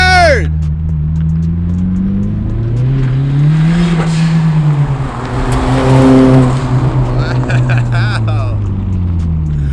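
A turbocharged Honda Civic revs loud and close as it accelerates through the gears, with the engine pitch climbing, dropping at each shift and climbing again, while people in the car talk over it.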